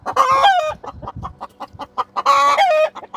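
F2 Olive Egger chickens from Cackle Hatchery cluck close up in two loud bursts of strained, rising calls, separated by a run of shorter, quieter clucks.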